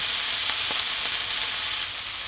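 Ham, salami and pepperoni frying together in a pan as pizza-burger toppings, a loud, close, continuous sizzle with a few soft pops and no voices.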